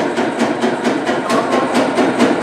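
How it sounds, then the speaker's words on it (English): A steady, loud broadband whooshing roar of a dust collection system running continuously, with a faint rhythmic pulsing and no talking. "That noise is our dust collector."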